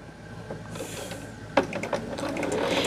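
A sewing machine stitches quilt blocks nearby, with a rapid mechanical whirring and ticking that grows busier partway through, plus a sharp click, and no voices.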